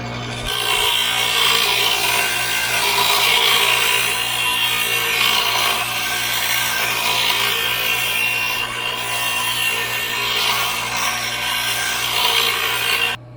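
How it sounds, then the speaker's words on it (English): Grinder cutting and smoothing metal straps for a homemade rope maker, a loud continuous abrasive rasping with a low steady hum underneath, sustained throughout with no speech. "what we just did now is we cut these straps that are going to hold this thing together"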